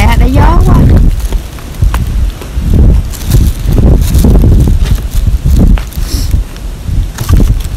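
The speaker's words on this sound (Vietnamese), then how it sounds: "Trời, gió quá. Gió quá." Strong gusty wind buffeting the microphone outdoors at a family cherry-blossom picnic in Japan, loud low rumbling surges throughout with people talking over it.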